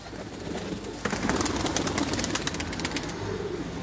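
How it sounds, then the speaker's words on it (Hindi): Colored pigeons coo nearby in low throaty bursts, with soft wing flaps and scattered clicks and rustling around them. "ये देख लें जी, कलरदार कबूतर हैं।"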